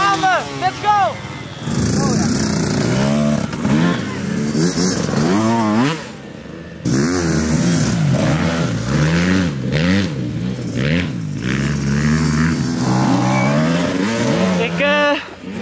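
A motocross bike on practice laps revs close by, its engine note climbing and dropping repeatedly through gear shifts, with a brief pause midway before loud rising revs resume.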